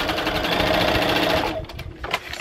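A sewing machine runs steadily while chain piecing quilt fabric, its close, loud, fast stitching hum continuous before it slows and stops near the end, with small clicks after.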